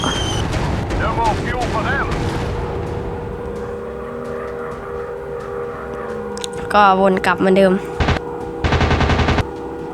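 Bombs dropped from a warplane in a combat flight game: continuous rumbling explosions and gunfire with engine drone, louder bursts of blasts near the end, while someone talks over it.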